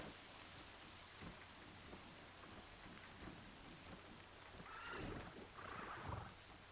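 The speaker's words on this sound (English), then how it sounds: "so did not expect it to start raining on me like this" Steady video game rain in Horizon Zero Dawn hisses throughout with low rumbling beneath, swelling a little near the end, faint and continuous with no voices.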